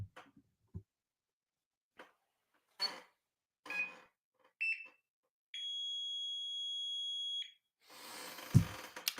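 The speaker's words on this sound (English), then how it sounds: "They just got 4 beeps." An Isomax timer gives several short electronic beeps, then one long steady tone of about two seconds, followed by a rustling thump; quiet between sounds.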